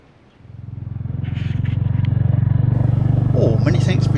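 A Royal Enfield Hunter motorcycle pulls away and rides along a country lane, its single-cylinder engine building to a loud steady throb, close and continuous with faint clattering over it.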